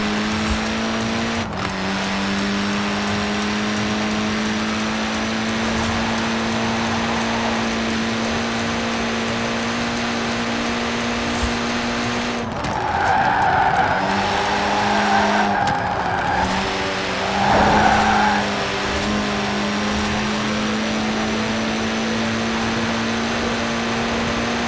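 A Mini Cooper S in Forza Horizon 4 drives steadily with a constant droning engine note throughout, broken by bursts of tire squeal and skidding in the second half as it slides through corners.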